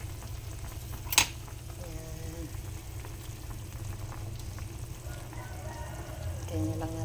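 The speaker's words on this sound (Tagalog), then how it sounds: "kumukulo na." A pot of paksiw na bangus, milkfish stewed with patis, simmers on the stove with a soft, steady bubbling close by, and a brief sharp clink near the start.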